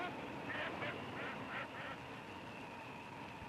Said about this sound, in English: Geese are flying south. Thousands pass here every day.